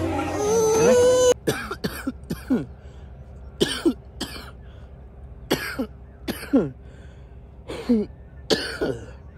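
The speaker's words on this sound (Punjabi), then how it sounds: "ਮੇਰੇ ਬੇਟੇ ਨੂੰ ਵੀ ਖਾਂਸੀ ਖੁਸ਼ਕ ਹੋਈ ਆ" A young boy with a dry cough coughs in a series of sharp, hacking bursts spaced a second or two apart, close and loud, following a short stretch of an adult voice at the start.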